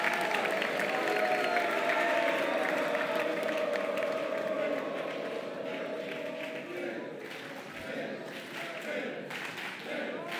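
Audience applause for two Ag Commissioner candidates at a Mississippi Boys State candidates' debate, a broad crowd clapping that starts full and gradually thins and fades toward the end, with some murmuring underneath.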